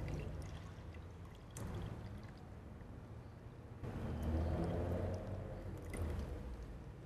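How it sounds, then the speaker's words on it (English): Milk poured into a pot of rice for kheer, a quiet, continuous liquid pour that swells and thickens in stretches and runs alone, with no talk. "I'm going to add more milk"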